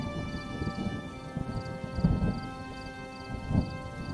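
Dense rain hisses beneath low rolling rumbles of thunder, with a couple of heavier booms standing out.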